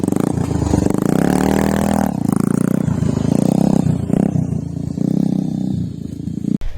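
A handmade quad bike fitted with a Bajaj Pulsar 180 engine runs close by in Perumbavoor, Kerala, giving a loud, throbbing motorcycle-like exhaust note. The revs swell and ease in a few surges, with some rattling clatter, and no one speaks.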